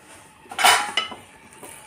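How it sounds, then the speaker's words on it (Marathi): A metal lid comes off a pan of upma with a sharp clatter and a short scraping rattle, followed by a softer clink, close and with no talk. "आता आपण झाकण काढून चेक करूया."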